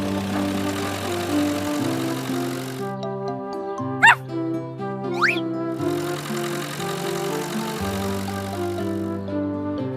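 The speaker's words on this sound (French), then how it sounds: "Le petit chien est très heureux." A little cartoon dog gives two quick, bright yips a second apart, set against cheerful, bouncy animated-show music that plays throughout.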